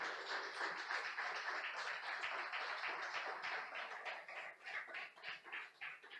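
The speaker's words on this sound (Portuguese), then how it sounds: "Dê um grande aplauso ao Senhor nesta manhã." A church congregation at a Sunday family service applauds together, a steady patter of many hands clapping that rises and then thins into uneven, pulsing bursts near the end.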